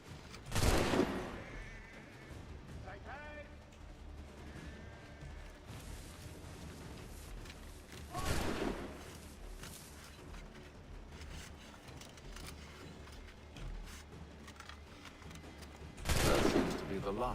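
Gunfire in the Assassin's Creed 3 video game: three separate loud, near musket shots spaced several seconds apart, with quieter mechanical clicks and faint talk between them.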